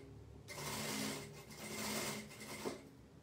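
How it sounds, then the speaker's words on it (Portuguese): A sewing machine stitching a crochet yarn bag runs in two steady bursts of rapid needle chatter, close and fairly quiet, with a brief pause between them and no talk over it. "Tô costurando aqui, tá?"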